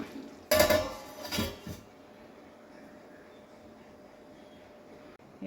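A lid goes onto a cooking pot of kadai chicken with two sharp metallic clanks close together, followed by quiet background hiss.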